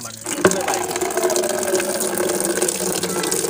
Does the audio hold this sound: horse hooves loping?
no